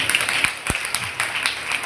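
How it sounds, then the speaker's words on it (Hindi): Light, scattered clapping at a school Women's Day celebration, a few sparse claps from a small group, fairly quiet, with no one talking over them. "तालियां बनती हैं"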